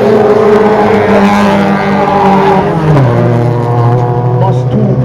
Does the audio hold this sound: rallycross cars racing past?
yes